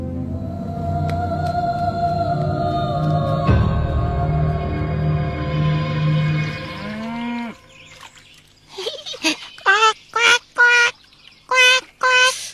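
An animated character imitates a goose call with a croaking, frog-like voice, coming after a long lowing cow. The calls arrive as several short, loud honking bursts in an uneven series.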